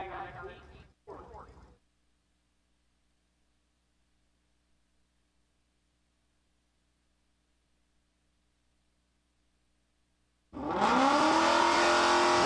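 Drag racing cars, including a Mustang in street class, launch with a sudden loud roaring engine burst near the end after a long quiet stretch; brief talk is heard at the start.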